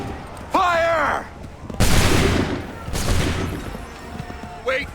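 A musket volley fired on command in Assassin's Creed III booms out as a loud crackling burst that decays, followed by a second, softer volley, with shouted voices before and after.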